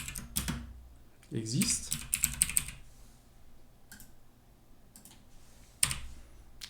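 Scattered bursts of typing on a computer keyboard while entering a bash shell command on Linux. The key clicks are close and fairly faint, and someone speaks briefly in between.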